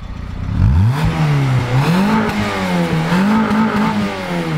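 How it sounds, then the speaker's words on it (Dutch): A Peugeot car engine revs repeatedly, rising and falling in pitch with a throaty exhaust note, close and loud, as the throttle is blipped several times in succession. "Geef eens even gas."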